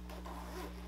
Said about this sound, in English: You have another zipper right here.